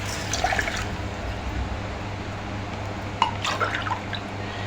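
Two cups of water poured into a pan for kunafa sugar syrup, a close splashing trickle at the start and again near the end over a steady low kitchen hum.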